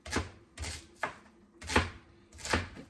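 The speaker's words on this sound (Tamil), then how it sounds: "இப்போ வெங்காயம் வெட்ட நடக்குது" Onions being chopped with a knife on a board while making a squid (kanavai) curry: five distinct, fairly loud chops at a steady, unhurried rhythm, close up, with no talking.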